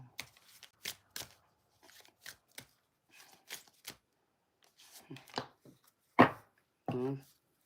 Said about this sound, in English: Show me before I roll these dice.